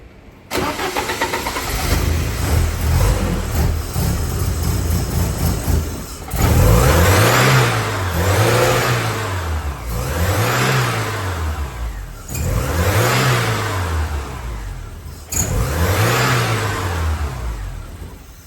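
A Porsche 944 that will not rev above 3000 rpm starts, then is blipped repeatedly, each of four or five close, loud revs rising and falling back in a strained, labored arc.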